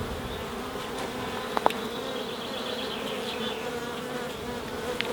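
Honey bees hum in a dense, steady drone around an open hive, with a few faint knocks and clicks of handling nearby.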